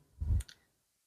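A single soft click made while selecting an option on a Samsung phone screen, short and close, followed by a faint second tick, with no talking.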